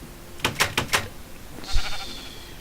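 Minecraft sheep bleating once near the end, following a quick run of four sharp clicks; short and fairly loud against a quiet game background.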